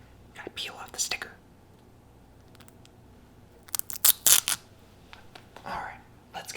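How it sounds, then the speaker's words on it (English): A sticker peeled off a navel orange with soft tearing and crinkling bursts up close, mixed with quiet whispering and faint handling noises. "Gotta peel off the sticker"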